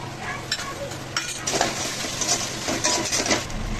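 Ginger and garlic paste stirred in a frying pan: a dense sizzle runs throughout, broken by scraping strokes and occasional clinks of a spoon against the pan, close and fairly loud.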